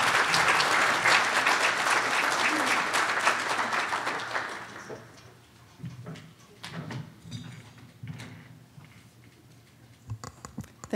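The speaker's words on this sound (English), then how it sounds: "You got a round of applause when you came on stage and when you left the stage." An audience at a fire chief's swearing-in ceremony gives a dense round of applause that fades after about five seconds into scattered claps, shuffling and small room noises.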